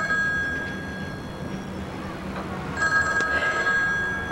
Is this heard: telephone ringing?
yes